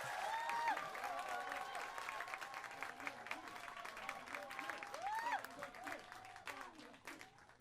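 A concert audience applauds to welcome a history lecturer to the stage, a continuous patter of clapping from many hands while a voice talks over it.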